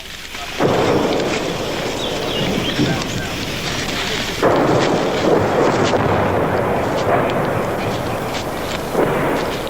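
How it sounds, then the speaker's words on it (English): Artillery fire from the Vietnam War in November 1967 pounds the ground around troops near Hill 943, as close as 100 yards, a loud rolling roar of blasts that swells repeatedly and blurs together, with voices faintly underneath. "Their own artillery pounds the area around the men, as close as 100 yards."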